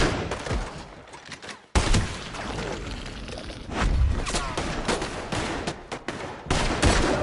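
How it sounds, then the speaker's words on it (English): Heavy gunfire in the video game Red Dead Redemption 2, a loud sharp burst opening a stretch of near and distant shots that keep popping and thudding in irregular volleys, with no voices over it. "They're shooting right at me!"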